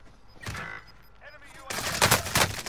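An LC10 submachine gun firing in Call of Duty Warzone Rebirth, a brief burst early, then a loud, sustained rapid volley toward the end, up close.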